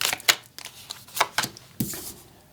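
A Rider-Waite-Smith tarot deck is shuffled by hand in short, crisp riffling bursts, several quick card flutters close up and alone over about two and a half seconds.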